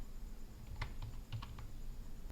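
Typing on a computer keyboard, a handful of crisp key clicks in a short irregular burst, close and alone over a steady low background hum.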